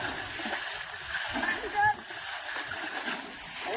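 Boys splash and scoop water out of a river pool while fishing, a steady wash of sloshing and splattering with one louder splash near the middle, voices talking over it.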